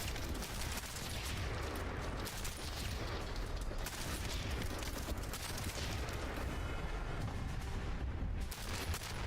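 Sniper shots and explosions from a Marvel video game fire in a dense, unbroken barrage of loud gunfire and blasts lasting throughout.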